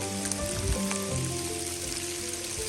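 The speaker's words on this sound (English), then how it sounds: "I mean, it's not snow, but it's sleet." Sleet falls steadily on trees along the Appalachian Trail, making a dense, continuous patter and hiss that is close and fairly loud, with no one speaking.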